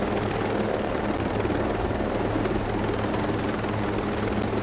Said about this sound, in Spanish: También puedo poner el helicóptero en medio también para que moleste